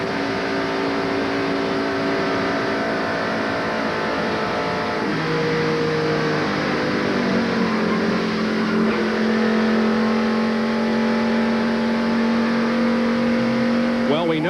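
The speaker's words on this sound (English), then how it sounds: "Here's from inside Jeff Bodine's car" In-car sound from a NASCAR stock car racing in the 1993 Pepsi 400, a loud, continuous engine drone that dips and climbs in pitch as it shifts and accelerates, with a commentator's voice faintly over it.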